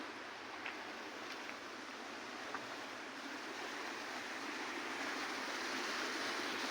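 Overflow water from a power house tank runs off through a pipe, a steady broadband rush of flowing water heard fairly close and alone, swelling slightly toward the end.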